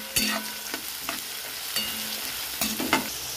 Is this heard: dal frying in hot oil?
yes